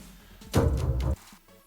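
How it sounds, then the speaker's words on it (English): A short burst of alien voice from a voice changer, electronically altered, buzzy and robotic, loud and close, lasting about half a second amid quiet background. "This will be my alien's voice."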